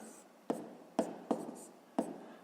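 Pen strokes writing numbers on paper while a 5th-grade math exercise is worked out, four distinct sharp scratches spaced about half a second apart, close and fairly quiet over low room hiss.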